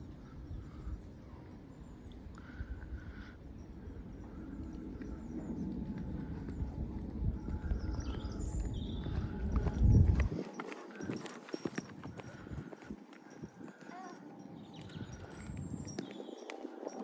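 A horse cantering over a jump course, with rhythmic hoofbeats on soft ground under steady outdoor wind and a louder thump midway, then more scattered footfalls with occasional faint bird calls.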